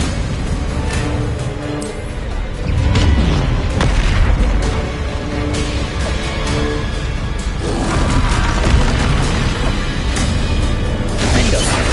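Bombarda spell explosions in the video game Hogwarts Legacy, a dense run of deep booms and crashing bursts layered over continuous loud battle effects and music, with faint shouted voices in the mix.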